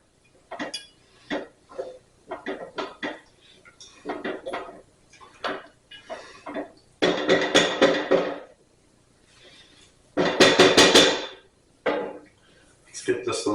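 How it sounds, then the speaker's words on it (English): Creamy asparagus soup being stirred in a pot, with a series of clinking, scraping utensil strokes against the pot in short bursts, alternating with two longer, louder stretches of scraping; close and clear. "give it a good stir"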